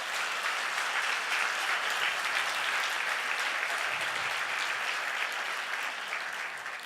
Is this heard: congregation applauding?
yes